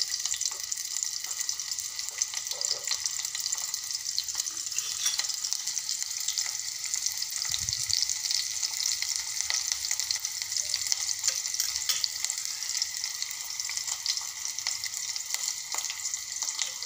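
Finely chopped onion and sliced garlic frying in hot oil, giving a steady, close sizzling hiss that carries on unbroken, with faint stirring and no voices.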